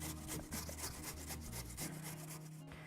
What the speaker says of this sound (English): grating the carrot is probably the longest job